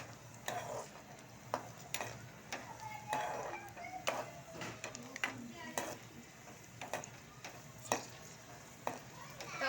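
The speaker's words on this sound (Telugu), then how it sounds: "ఇలా బాగా గోల్డ్ కలర్ వచ్చేంత వరకు ఇలా కలుపుతూ వేయించండి" Raisins frying in ghee while being stirred, a soft, continuous sizzle broken by regular scraping and clinks of a spoon against the pan, with a voice talking faintly in the background.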